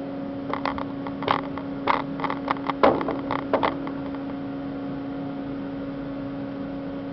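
A 2006 Haas VF2SS super-speed four-axis vertical machining center runs its spindle at 500 RPM, giving a steady tonal hum throughout with a cluster of light knocks and clatters in the first few seconds.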